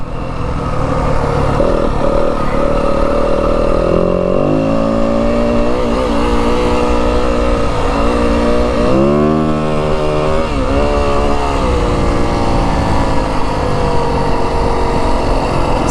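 A 2025 Yamaha WR250F dirt bike rides through Arizona desert sand, its engine buzzing loudly and steadily close by, pitch rising and falling as the throttle works through shifts, with wind rush and no talk.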